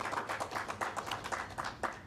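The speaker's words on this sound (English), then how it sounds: "A round of applause to Salima." Hand clapping at a human rights conference for a speaker, a small group whose claps land as distinct, fairly quick sharp strikes, close and uneven, with no talking over them.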